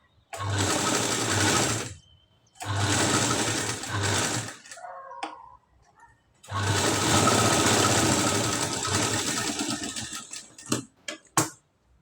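A sewing machine stitches a katori blouse in two short whirring runs, then a longer steady run, with brief pauses and a few light clicks between them.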